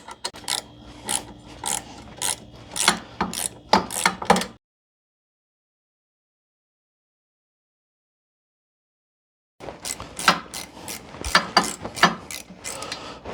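A wrench loosens a track bolt on a Yarbo autonomous snow blower, giving rapid ratcheting clicks in a close burst, then a long silence, then another run of clicking.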